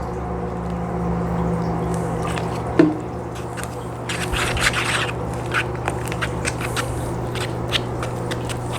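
Apple cider vinegar poured into a vinegar eel culture mix, giving soft wet splashing and squishy liquid sounds with a brief louder burst midway over a steady low hum; no one speaks.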